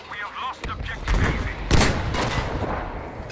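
Gunfire in the video game Battlefield V: a burst of loud, close shots and cracks, with one heavy blast in the middle, over a dense battlefield din, with no one talking.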